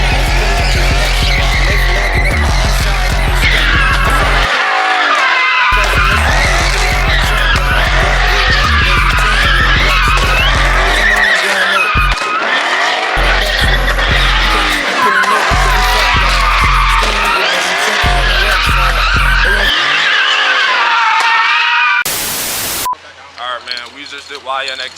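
A Dodge Hellcat drifts with tires squealing and skidding almost continuously, loud and close, the engine roaring underneath, with brief pauses between bursts and a voice speaking near the end.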